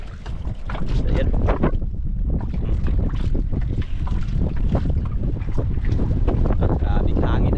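Strong wind roars and buffets the microphone continuously while fishing for grouper, with people talking underneath and some rumbling, splashy movement.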